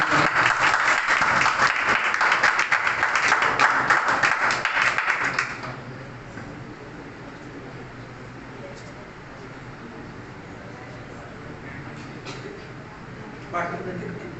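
An audience at a church youth meeting claps together for about five seconds, loud, dense and continuous, then the applause stops and only quiet room noise remains.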